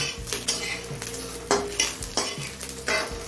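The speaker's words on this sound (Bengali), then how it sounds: "এবার বেগুনটা একটা পাত্রে তুলে নেব।" Fried eggplant is scooped out of a pan of hot mustard oil into a bowl, with repeated scraping and clinking of a spatula against metal over a continuous sizzle.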